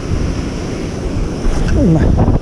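Wind and surf at the sea shore during a sea bass fishing outing with a south-southwest wind, a steady broadband roar with gusts buffeting the microphone and a brief voice-like tone near the end.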